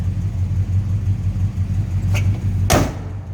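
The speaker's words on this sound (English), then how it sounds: "Door closes nicely." A single solid door slam close by from a 1966 Chevrolet C10 pickup truck, heard over the low, steady rumble of an idling engine.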